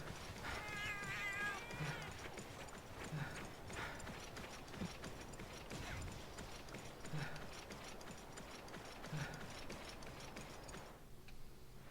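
A small cat creature in the video game Monster Hunter Freedom Unite meows softly near the start, over a busy bed of game footsteps, clip-clop and mechanical ambience.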